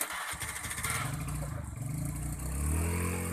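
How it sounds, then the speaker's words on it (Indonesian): Motorcycle on a muddy village road, its engine clattering and revving unevenly close by, rising into a louder, deeper pull near the end. "Ah, lihat tuh motor tuh."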